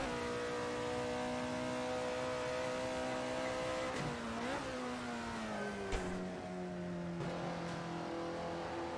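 A racing car in the Assetto Corsa game revving hard, its engine note climbing steadily, then dropping sharply at gear shifts around the middle before pulling again, loud and sustained throughout.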